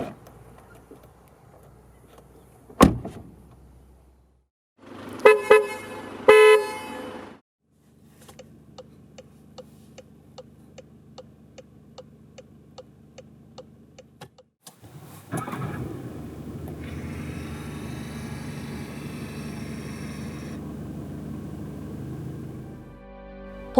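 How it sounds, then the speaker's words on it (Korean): A Volkswagen Arteon 2.0 TDI diesel sedan: a sharp click, the engine cranking and catching, a steady ticking idle that runs for several seconds, then the revs rise into a louder rough drone, close by with no talk. "잠시 아테온의 소리를 들어볼까요?"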